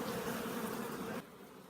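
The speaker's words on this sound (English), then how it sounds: "You can tell their buzz is angry, and you can tell their buzz when they're content." Honey bees buzz around an open hive on a farm, a steady, faint swarm hum that drops slightly in level toward the end, with no voices.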